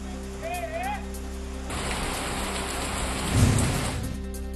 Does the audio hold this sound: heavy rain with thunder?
yes